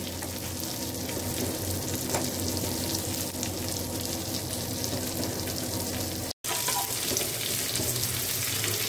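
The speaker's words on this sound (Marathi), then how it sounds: "एका साईडने चांगल्याचे फ्राय करून घ्यायचे, नंतर मग पलटी करायची।" Bombil fish frying in a pan gives off a steady, loud, dense sizzle that continues throughout, cut by a brief dropout near the end, with no voices.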